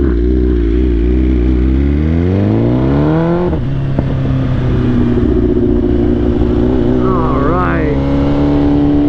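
A stock 2020 Honda Grom motorcycle ridden ahead, its small engine rising in pitch through gear changes over loud, steady wind buffeting, with a continuous close drone throughout.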